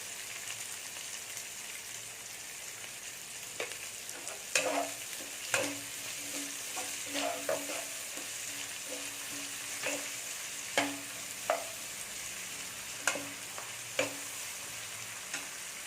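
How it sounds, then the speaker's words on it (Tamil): Onions sauté in oil in a pan for an egg and chana dal kootu, a soft, steady sizzle punctuated by repeated light spoon taps and scrapes, fairly quiet with no voices. "இது நல்லா அந்த எண்ணெயிலேயே நல்லா வதங்கணும்"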